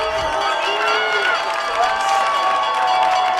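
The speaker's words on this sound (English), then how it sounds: "Crowd starting to get pumped up." A high school football crowd in the stands building up before a fourth-down play, a loud sustained roar of many voices with cheering and shouts rising and falling, no single voice standing out.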